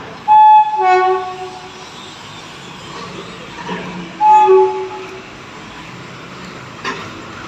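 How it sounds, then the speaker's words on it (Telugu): A train passes along the railway tracks near Anantapur, where soil is being dug out beneath the line, sounding two loud horn blasts near the start and middle over a steady rumble of wheels on rails, with no talking. "ట్రైన్ అయితే వస్తుంది"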